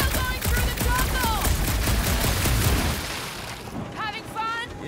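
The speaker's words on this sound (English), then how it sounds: "I didn't think I'd ever be shooting at a resistance ship." Gunfire aimed at a resistance ship in Guardians of the Galaxy, a rapid loud fusillade of blaster shots with booming impacts, then dropping off as whistling, warbling alien calls rise near the end.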